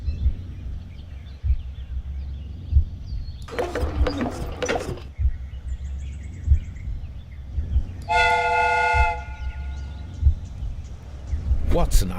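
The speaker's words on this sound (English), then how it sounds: "The steam whistle is ready to be used." Steam train sounds in the Sherlock Holmes Crimes & Punishments video game: a low rumbling engine throughout, with a burst of hissing steam and then a bright, sustained steam whistle blast, plus a brief hiss near the end.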